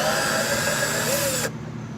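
A power drill-driver backs screws out of a storage compartment fitting on a 2018 Yamaha 212X boat, whirring loudly and steadily up close for about a second and a half before cutting off.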